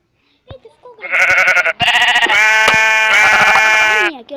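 Blocky game sheep bleat repeatedly in a loud, close, harmonic run of drawn-out cries that nearly fill the stretch after a short click, with a bit of talk mixed in.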